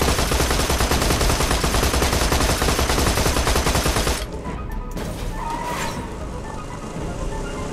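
A mounted turret in the shooter Borderlands 2 fires dense, rapid bursts of close, loud gunfire for about four seconds, then the barrage cuts to quieter scattered shots and background game noise.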